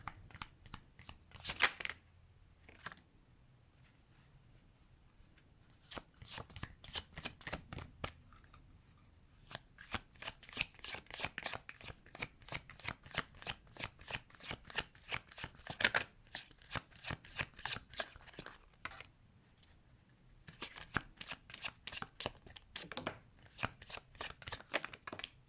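Tarot cards shuffled by hand in quick riffling bursts, close and fairly quiet, with a few short pauses between runs of rapid flicking.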